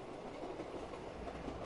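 A train rolls along steadily in the Black Ops 3 Zombies video game, a continuous low rumble with faint clattering, fairly quiet and with no voices.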